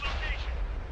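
A tank cannon fires in the World of Tanks game, with the E 50 M tank cresting a hill. A single heavy, booming shot rolls out at close range and fills the whole moment with a dense, rumbling blast.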